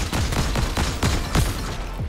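Rapid bursts of gunfire from Fortnite, loud repeated cracks at an uneven rhythm over about two seconds, with no talking.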